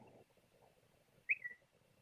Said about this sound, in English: Somebody's whistling out there.